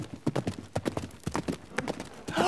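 Horse hooves gallop in a quick, steady clip-clop rhythm, close and fairly loud, with no talking over them and a faint rising sweep at the very end.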